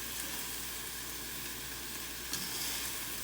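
Food pan-searing in a hot pan gives a soft, even, continuous sizzle at low volume throughout, with no voices.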